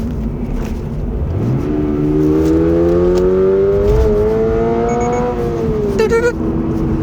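Loud engine note of a 2024 Subaru BRZ rising steadily in pitch under acceleration, with a short series of beeping shift-warning tones near the end before the revs settle.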